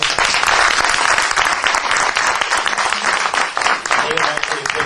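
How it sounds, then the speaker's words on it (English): Audience at a morning conference session applauds the session leaders, loud close clapping with individual sharp claps, swelling then thinning slightly toward the end, with voices mixed in. "let's give the leaders a round of applause"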